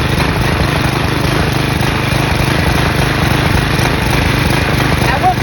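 Briggs & Stratton flathead engine from a Craftsman push mower runs steadily at close range, a loud continuous droning hum with no pauses or changes in pitch.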